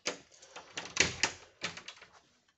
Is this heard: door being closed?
yes